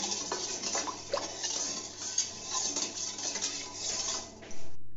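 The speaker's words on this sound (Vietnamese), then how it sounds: "Và mình sẽ quấy đều để muối được tan." Spoon stirring salt into water for a banana flower salad, a steady run of light scraping and clinking against a bowl, close and fairly soft, with no voices.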